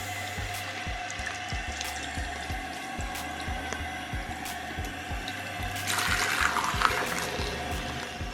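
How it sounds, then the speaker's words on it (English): Running water from a tap flows steadily while hair extensions are wetted for washing with shampoo and conditioner, with soft splashing that swells louder near the end. "I'm just gonna wet it and basically wash it with shampoo and conditioner"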